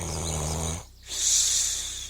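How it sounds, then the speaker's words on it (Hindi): A cartoon character snores loudly up close: a rough, drawn-out rattling inhale, a brief pause, then a breathy, hissing exhale. "अफीमी लाल चैन से पड़ा खर्राटे मारता रहता है।"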